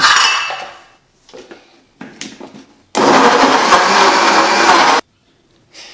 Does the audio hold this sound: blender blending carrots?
yes